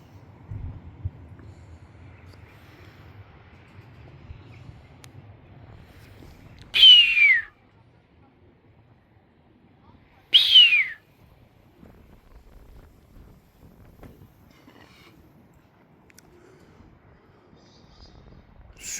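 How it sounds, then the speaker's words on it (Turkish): Pheasants give two short, sharp, high calls several seconds apart, fairly loud against a quiet outdoor background with faint low rumble and wind. "Oradan ciyak ciyak sülün bağırıyor"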